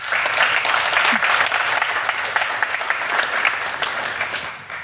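Audience at a startup pitch night applauds a presenter: loud, dense clapping from a crowd that holds steady for several seconds before easing off at the end.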